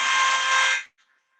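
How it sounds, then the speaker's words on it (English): An industrial press crushing a steel profile pipe in a blacksmith's forge gives a loud, harsh grinding roar that holds for under a second and cuts off abruptly, followed by a faint ringing tail. "That press is loud."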